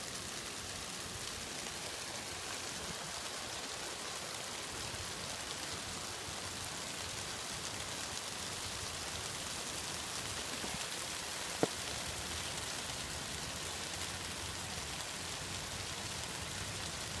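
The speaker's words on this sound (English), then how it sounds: "When it starts raining" Rain falls steadily as an even, faint hiss, with a single sharp tap midway and no voices.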